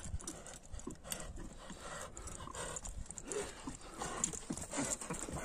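Hooves of a horse clip-clop in an irregular, busy patter against a noisy outdoor background, with no clear talk over them.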